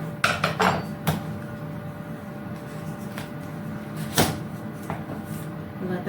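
A bread pan set into a kitchen sink to soak, a couple of sharp metallic knocks and clunks near the start and another later, close and fairly loud over a steady background hum, with a voice speaking.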